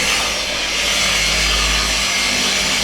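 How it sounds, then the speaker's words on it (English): A machine polisher fitted with a black finishing disc spreads liquid wax across the paintwork of a VW Split-Screen bus, giving a steady, continuous whir with an even rubbing hiss, close and fairly loud throughout without a break. "So we've got Terry using the machine polisher with the black finishing disc and our ultimate liquid wax."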